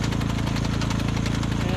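A small 2,000-watt Craftsman portable generator idles steadily close by, a continuous buzzing engine drone with a fast even pulse and no change in pitch.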